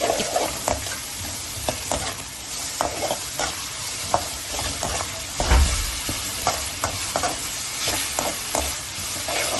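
Ginger garlic paste sautéing in oil for a Tamil mutton curry with drumstick and brinjal, a steady low sizzle broken by repeated spoon or ladle scrapes and stirs against the pan, close by with no talking.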